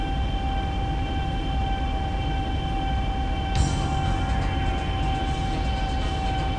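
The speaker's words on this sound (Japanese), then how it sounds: "電車入っております。" A Sanyo Shinkansen train arriving at Kokura in the video game Densha de Go! runs steadily with a continuous rumble and a sustained high electric whine, with a brief sharp click partway through.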